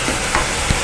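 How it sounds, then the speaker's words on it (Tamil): A quick scrape and shuffle of a spoon folding paneer biryani rice in a pot, a brief close stir over a faint sizzle, with no one talking. "இதை கொஞ்சம் கொஞ்சமாக மிக்ஸ் பண்ணுங்கள்."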